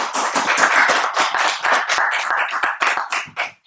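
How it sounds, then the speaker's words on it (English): A room of attendees at a hosted event claps in a steady round of applause, dense and fairly close, tapering off into a few scattered claps before fading out. "A big round of applause for them as well"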